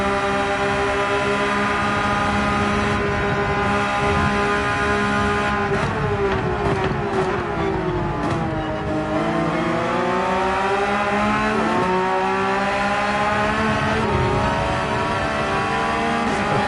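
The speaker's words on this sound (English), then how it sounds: "You can even hear that we're getting on the throttle at the same time." Porsche 911 GT3 race cars in Gran Turismo 7 at Mount Panorama, several engines revving hard together with rising and falling pitch as they accelerate and shift, loud and close with no talking.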